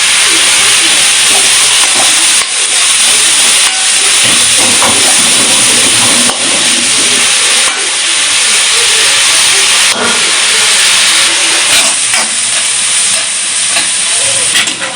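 Fennel and fenugreek seeds fry in a pan for a village-style country rooster curry, giving a loud, steady sizzle and steamy hiss throughout with occasional stirring clicks.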